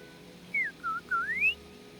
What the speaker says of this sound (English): Yao likes to whistle